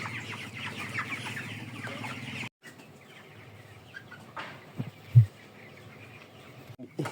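Broiler chickens in a poultry shed cluck and chatter softly as a dense flock, with a short break and then quieter scattered clucks and a single louder knock.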